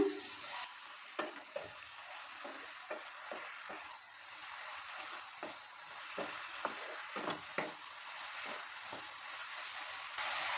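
Mixed vegetables with lentil dumplings fry in a pan under a soft continuous sizzle, with repeated scraping stirs of a spatula throughout, close and steady, no talking.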